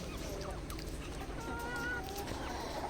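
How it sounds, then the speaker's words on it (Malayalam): Roosters cluck and squabble at a low level as they fight, with a few sharp squawks rising over steady background noise. "കോഴികൾ നമുക്കിപ്പോൾ കൊത്ത് കൂടുന്നുണ്ട് കേട്ടോ"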